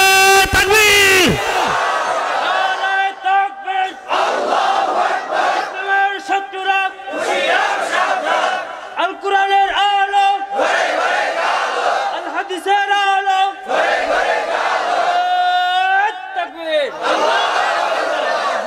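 A large crowd at a Bangla religious sermon roars the takbir in unison, loud repeated bellowed chants in waves, with a voice leading between the shouts.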